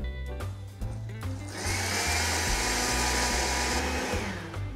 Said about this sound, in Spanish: vamos a licuar perfectamente bien todo hasta que se integre muy bien